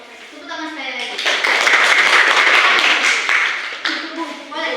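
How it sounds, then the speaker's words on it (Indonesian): Group of students clapping after a class group presentation, a dense burst of hand claps swelling for a few seconds amid voices, with children's and adults' speech heard before and after. "Tepuk tangan sekali lagi."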